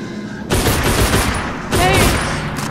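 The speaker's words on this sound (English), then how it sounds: "How the heck did you shoot me?" Gunfire in the video game Velvet Assassin comes as two loud bursts of rapid shots, separated by a brief pause, close and sharp.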